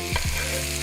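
Meat fat sizzles while browning in a pot for pot roast, a brief close crackle with a stir or scrape near the start.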